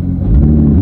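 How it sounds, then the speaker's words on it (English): A brief, close burst from a supercar engine as it is revved, a loud low-pitched rumble swelling over less than a second. "Give it a couple revs."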